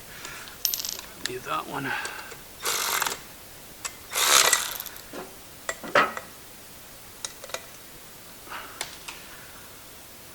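Metal sockets clink and rattle as they are sorted while fitting a small block Ford water pump: scattered sharp taps and jangles, close by, with a brief spoken remark.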